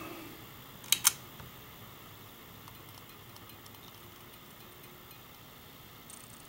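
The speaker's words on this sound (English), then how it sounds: "I like the sounds of the starter." The starter of a 4-watt preheat fluorescent strip light gives two sharp clicks in quick succession near the start. A quiet steady hum follows, then one faint click right at the end.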